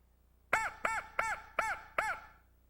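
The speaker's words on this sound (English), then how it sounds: "I'm just blowing on the crow call pretty loud" Crow call blown loudly for turkey hunting, five harsh, strongly harmonic caws in a quick, even run, close and loud over a faint low hum.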